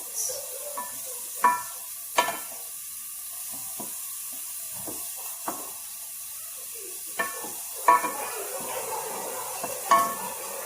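A soft steady sizzle of frying in a pan, with occasional sharp clinks and scrapes from stirring, no voices.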